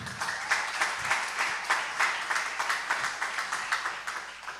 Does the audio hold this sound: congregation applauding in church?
yes